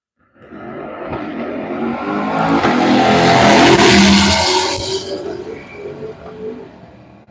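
A Corvette drag races down the strip at U.S. 131 Motorsports Park, its roar swelling from nothing to a loud, rasping peak around the middle and then fading away, with a tire-squeal edge as it passes.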